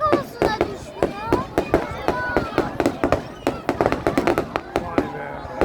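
Fireworks display at a celebration in Karamürsel, with dense rapid pops and crackling bangs in irregular bursts throughout, while people talk nearby over the explosions.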